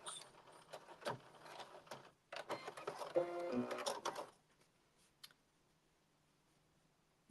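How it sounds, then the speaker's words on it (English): A domestic sewing machine back-stitches a blazer seam with quick mechanical clicking and whirring for a few seconds, then stops and falls nearly silent. "Back stitch."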